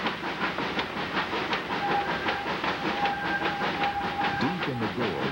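Steam locomotive Number 11 of the ET&WNC railroad (Tweetsie) working hard up a 4% grade around sharp curves, rhythmic chuffing exhaust with steady mechanical clatter and a thin whistle-like tone, fairly close.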